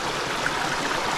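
A small stream flows over rocks at a trail crossing in the Maine wilderness, a steady, close rush of water that fills the whole moment with no voices.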